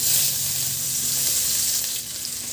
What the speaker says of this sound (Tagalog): Sa disim na kawali, igisa ko na rin yung bawang.